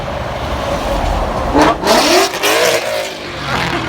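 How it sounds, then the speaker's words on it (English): A Ford Mustang engine roars past nearby, revving up loudly and then fading, over a background of traffic rumble. "That wasn't the horn from the truck. That was that Mustang going by."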